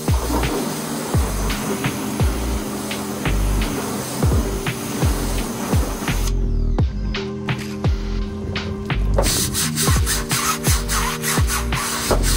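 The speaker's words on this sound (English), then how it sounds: "What you want to do is you want to scrub, rinse, and repeat until the foam is white." Plastic brush scrubbing foam on the paint of a 2017 Honda Civic Hatchback, rapid rhythmic scratchy strokes repeating steadily up close, with a brief quieter gap midway.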